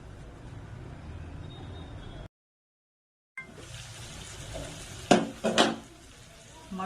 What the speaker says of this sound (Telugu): మనం మళ్ళీ మటన్ వేసుకుందాం.